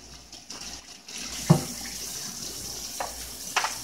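Tap water rinses the drip tray of a Breville espresso machine at a sink, a steady near running stream with a few clunks of the tray against the basin.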